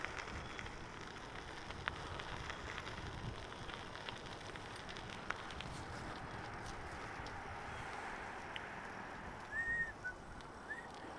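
Light rain sprinkling during a bike ride along a Minnesota river bluffs trail, a soft steady hiss of drops with faint wind throughout and no talking.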